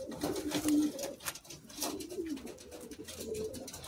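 Madras pigeons cooing close by, a few low soft throaty coos repeating in a loose rhythm over faint background noise, with no talk.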